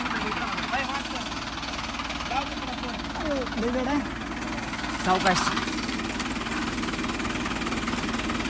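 A tractor engine idles and chugs steadily while someone rides along on it, a low continuous drone with occasional brief vehicle sounds and a short spoken word over the top.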